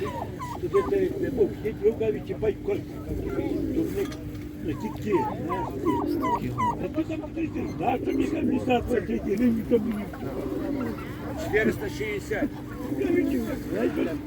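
Pigeons coo and flutter amid a busy crowd at an animal market in Ivano-Frankivsk in winter, with steady chatter from people nearby and other birds calling faintly in the background.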